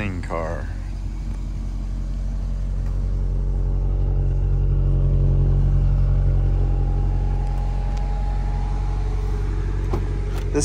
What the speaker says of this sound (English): This concludes the test drive version of the 2010 Quattroporte Maserati listed on Bring a Trailer